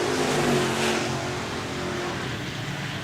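Sprint cars racing on the dirt oval at Park Jefferson Speedway, a loud continuous engine roar that swells early and then holds steady as the pack passes.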